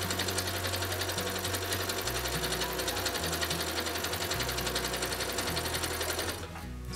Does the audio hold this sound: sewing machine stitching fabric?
yes